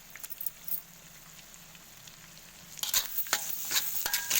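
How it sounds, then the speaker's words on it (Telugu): Egg frying in oil for masala noodles gives a soft, steady sizzle, then turns into louder, close scraping and clattering as a utensil stirs it in the pan. "ఎగ్ మంచిగా గోలాలి నూనెలో."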